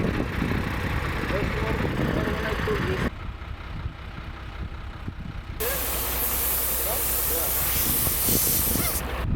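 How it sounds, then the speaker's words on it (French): Air hissing out of a car tire being let down for driving on desert sand near Merzouga: a loud steady hiss that cuts out for a few seconds and then resumes, with an idling engine and voices in the background. "Ils sont en train de dégonfler mon pneu"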